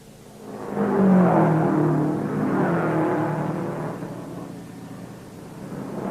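A 1950 Indy 500 race car roars past, its engine swelling up to a loud peak and then fading away as it moves off, with no voices.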